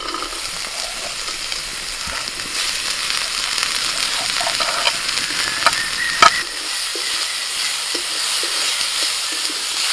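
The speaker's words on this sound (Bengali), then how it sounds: "তেলের মধ্যে দিচ্ছি রসুন কুচি আর আদা কুচি। আদা রসুনটাকে একটুখানি ভেজে নিই।" Chopped garlic, ginger, chili, carrot and capsicum fry in oil with a bright, continuous sizzle, broken by a few clinks and scrapes of a stirring spoon; no one speaks.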